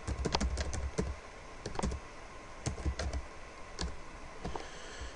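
Close, irregular bursts of computer keyboard typing with a few quick clusters of clicks separated by short pauses, heard alone without talk.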